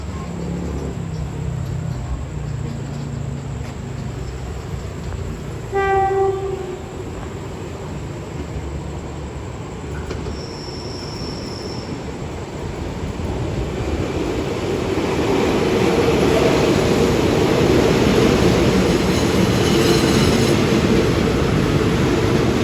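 Special weekend tour train 910, Nam Tok to Bangkok, rolling into Samsen station in Thailand and stopping, with a steady low rumble of wheels and cars, a brief brake squeal, and noise swelling louder toward the end.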